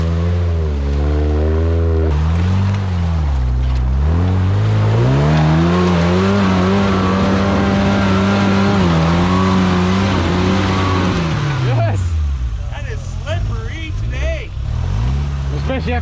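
Toyota buggy engine held at full throttle in second gear, a loud close roaring drone that rises and wavers in pitch for several seconds before easing off, with people talking over it.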